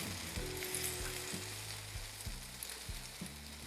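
Mushrooms and sun-dried tomatoes sauté in oil on an outdoor griddle, a steady crackling sizzle over a low, rumbling hum of wind, with a few soft scrapes as they are spread out.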